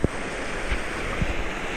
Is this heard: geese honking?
no